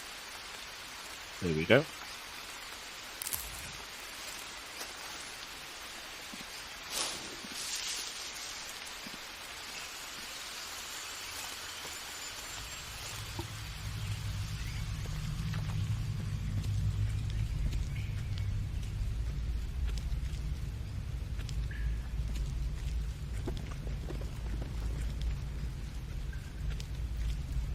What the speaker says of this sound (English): Oh, it's raining in, so we could have just put coconuts over here.